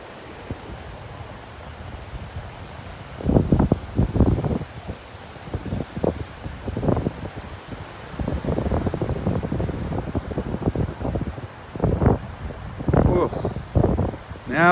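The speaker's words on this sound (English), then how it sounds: "Now it is getting windy." Gusty wind buffeting a microphone in irregular bursts, rising and falling, with a soft steady rush of surf in the background, on a chilly morning at Delnor-Wiggins Pass State Park beach.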